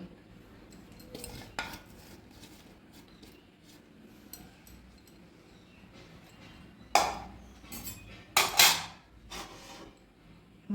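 A metal kadai is set down on a home stove and then covered, giving a few scattered clinks early on followed by louder, sharp clanks and rattles of metal on metal near the end.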